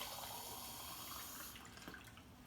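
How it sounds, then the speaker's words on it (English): Water runs steadily from a tap into a container being filled for a sugar cube experiment, a soft continuous splashing stream that changes slightly as the vessel fills, with no talk. "And we'll fill this up with water."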